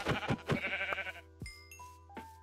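Sheep in the video game Minecraft bleat several times in quick succession, wavering close calls followed by softer electronic chimes.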